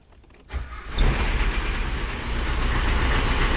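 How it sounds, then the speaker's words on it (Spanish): A car engine cranks and starts, then settles into a steady, fairly loud idle, heard during a check of a hard brake pedal caused by a faulty brake booster. "Si encendemos el motor"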